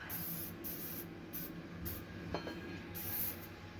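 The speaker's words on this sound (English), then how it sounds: "So I just hit it with a little bit of PB blaster, basically WD-40." PB Blaster penetrating oil sprayed from an aerosol can onto an old Pulaski mattock in several short hissing bursts, each a second or less, close and clear with brief pauses between them.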